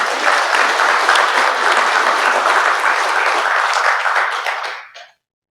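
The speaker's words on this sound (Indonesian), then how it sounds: "Tepuk tangan untuk BMI." Dense, loud applause from a crowd at a Bintang Muda Indonesia party event, steady clapping held for several seconds before cutting off abruptly.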